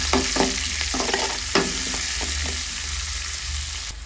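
Onion, green and dried red chillies, cumin and chana dal frying in a pan give a loud, constant sizzle broken by repeated scraping stirs of a spatula, with no voices.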